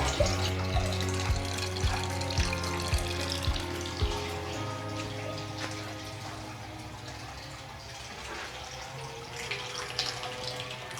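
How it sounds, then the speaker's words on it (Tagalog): Water runs steadily from a shower head at a farm resort campsite, a continuous hiss and splash with a low hum beneath it, heard up close. "Tapos ito, shower. Okay naman yung tubig, sakto lang."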